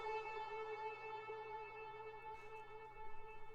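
A sustained ambient shot sound effect pitched up ten semitones: a steady, bright tonal drone with layered harmonic hum that holds evenly throughout, heard alone with no voices.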